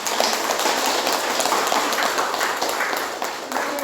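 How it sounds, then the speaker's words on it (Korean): A church congregation at a Sunday service claps steadily for absent members, a dense, even patter of many hands lasting throughout. "박수 보내주세요"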